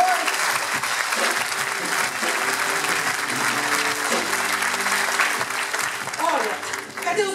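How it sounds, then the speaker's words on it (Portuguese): A church congregation at a golden jubilee service applauds warmly and continuously, close and full, while voices and tonal sounds carry underneath the clapping. "Aplaudam ao Senhor por essa vitória"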